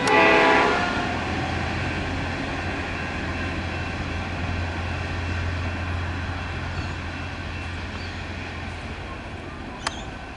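A V/Line passenger train rumbles steadily past a level crossing at close range, a low droning hum throughout, then a brief sharp clank near the end.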